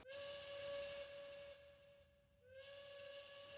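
A steamboat's steam whistle blows loud and near in two long blasts, the second following a short gap, with a breathy hiss of steam under the tone.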